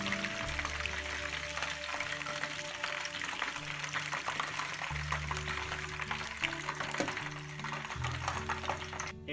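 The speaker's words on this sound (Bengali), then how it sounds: "এভাবে করে সবগুলো তরিতেন আমরা ভেজে ফেলবো।" Japanese tori ten chicken pieces fry steadily in hot oil, a dense continuous sizzle and crackle close by with low background hum, no talking.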